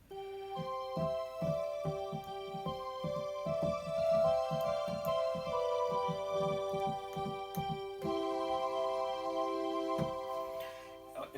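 An electronic organ plays on a string ensemble stop, held chords over a rhythmic plucked bass pattern that thins out near the end, continuous and close, with no one speaking.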